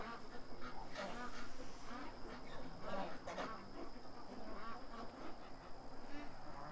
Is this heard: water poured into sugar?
no